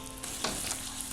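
Spice powders and salt fry in oil in a pan for chicken Zurbian rice, with a soft, steady sizzle and a couple of quick stirring scrapes.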